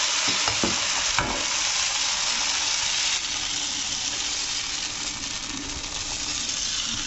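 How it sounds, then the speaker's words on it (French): Algerian crêpes (baghrir) of flour and semolina cook in a pan, giving a steady close broadband sizzle with a few light clicks and taps near the start. "On va commencer à faire cuire les crêpes."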